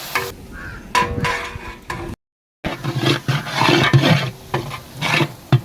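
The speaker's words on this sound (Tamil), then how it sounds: "அடுப்பு அருமையாக எரிஞ்சிச்சு கல கல கலன்னு எரியுதுங்க" A large cooking stove fire roars under small shallots frying for a 15 kg chicken gravy. Steady, close burner roar mixed with sizzling and stirring clatter, broken by a brief silent gap.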